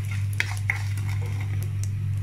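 Dried red chillies and popped mustard seeds are stirred in a hot pan for a Kerala long beans stir-fry, giving light scattered clinks and scrapes of the utensil against metal over a constant low hum.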